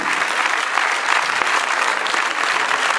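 A cinema audience at a film premiere of Entre amis claps steadily for director Olivier Baroux, a dense, even wash of applause lasting the full few seconds.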